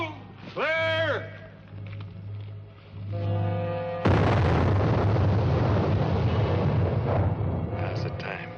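Blasting charge set off at a prison quarry in 1876 Leavenworth, Kansas, after a shouted warning, a sudden loud explosion erupting into a long roaring rumble that slowly fades, preceded by shouting voices.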